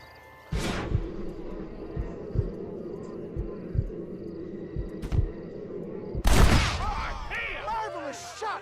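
Gunfire in the Western video game Red Dead Redemption: after a quiet start, a steady series of sharp shots cracks out at a regular pace over a low hum, ending in a louder burst of noisy commotion.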